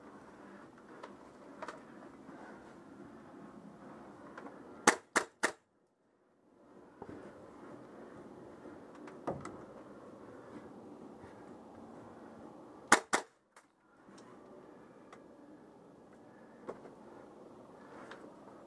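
Airsoft guns fire during an outdoor airsoft game: a quick burst of three sharp cracks, then a second pair and a single shot later, all over a steady wash of wind and ambient noise.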